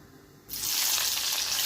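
Thinly sliced onion for chicken biryani drops into very hot oil, setting off a sudden loud, hissing sizzle that holds steady and close after a brief quiet start.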